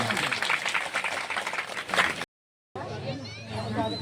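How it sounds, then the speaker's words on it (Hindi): An audience at a Ramlila committee event gives a burst of applause, dense clapping with crowd noise and voices mixed in, cut by a brief silence before a voice and softer sounds resume. "एक बार तालियां हो जाए।"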